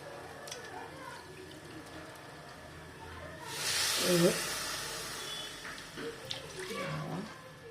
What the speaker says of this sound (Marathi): आपण आता पाणी टाकणार आहोत चार पट पाणी टाकायचं आहे